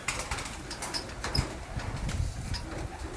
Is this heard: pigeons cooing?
yes